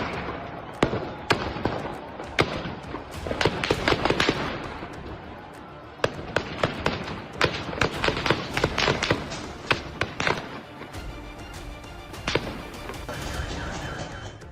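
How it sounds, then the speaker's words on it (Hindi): Gunfire rings out during street protests in Tehran as sharp cracks, some single and some in quick clusters, spread over the whole stretch, with distant voices in the background. "हर तरफ गोलियों की तड़तड़ाहट सुनाई दे रही है।"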